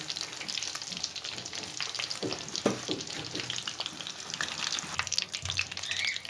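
Chicken chop pieces frying in hot oil, a steady close crackling sizzle with a few louder spatters and pops, no voices.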